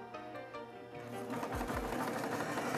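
A restored sewing machine running under its own power, giving a steady motor whir with rhythmic mechanical clatter that speeds up and grows louder partway through, close and alone.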